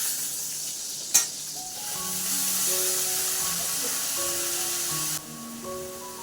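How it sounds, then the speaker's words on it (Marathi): Vegetables being tempered in hot oil for a Maharashtrian vegetable dish, a steady loud sizzle after a sharp clatter near the start, with faint tonal sounds layered underneath and the hiss cutting off near the end. "तर आता चला भाजीला फोडणी देते."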